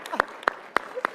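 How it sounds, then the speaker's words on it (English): At a Ronald Reagan dinner during CPAC 2020, a few slow, evenly spaced handclaps ring out, four sharp claps in just over a second, sounding sparse rather than like a full round of applause. "Please clap."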